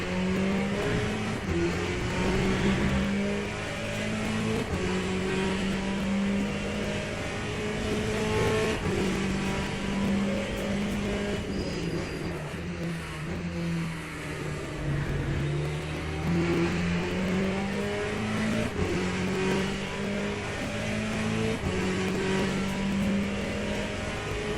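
A GTE race car lapping Bahrain in the LeMans Ultimate sim racing game sounds a continuous engine note that climbs and drops through gear changes, steady and loud throughout with no talk.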